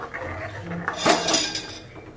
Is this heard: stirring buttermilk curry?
yes